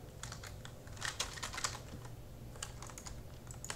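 Rapid, steady clicking of a computer keyboard being typed on during Minecraft play, close and fairly quiet, with a few louder bursts of keystrokes and no talking.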